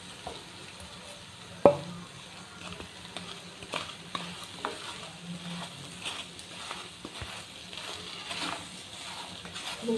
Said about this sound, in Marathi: पॅन गरम करून त्याच्यात तूप टाकून घ्यायचे 1 चम्मच, त्यामध्येच गूळ टाकून घ्यायचा आपण